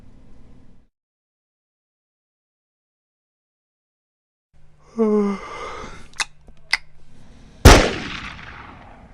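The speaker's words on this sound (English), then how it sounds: "Why did you shoot him?" A single sharp, loud gunshot cracks out near the end. Before it come a few brief clicks and a short burst of other sound after near silence.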